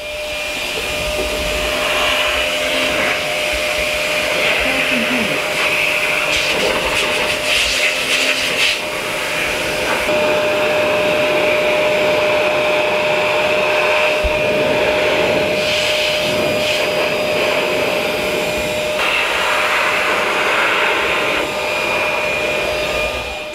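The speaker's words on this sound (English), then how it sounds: "Turn it on high." A cordless vacuum run on high as a blower during a car detailing wash gives a steady, loud whining roar that holds for the whole stretch, with slight shifts in pitch as it moves, and no talking.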